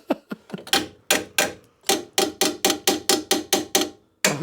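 A Rover 75 alloy wheel takes about a dozen sharp, ringing metallic blows in quick succession, each loud strike decaying briefly before the next, in an uneven but steady rhythm.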